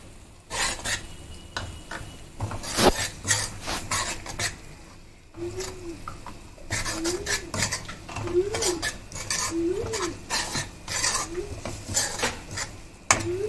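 Curry leaves and mint fry in a pan with a soft sizzle while a metal spoon stirs and scrapes against it in repeated close strokes.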